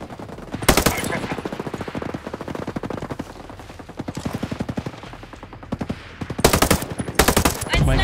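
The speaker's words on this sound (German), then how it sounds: "Ein Sniper zieht auf uns!" Gunfire in Ghost Recon Breakpoint comes as rapid automatic bursts, with loud close volleys at the start and end and quieter sustained rattling between them.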